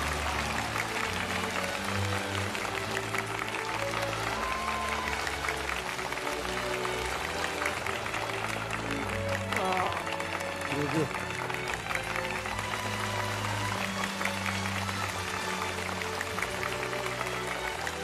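An audience at a crosstalk comedy competition final keeps up a steady wash of applause and crowd noise as the season champions are announced, with a voice talking over it throughout.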